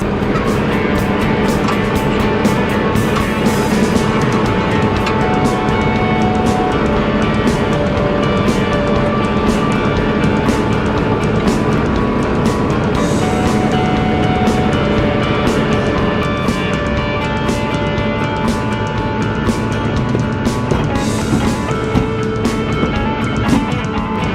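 A tractor's PTO drives the spinning wheels of a fertilizer spreader on a hay field, a loud, continuous engine-and-machinery drone with steady rumble and rattle throughout, no talk.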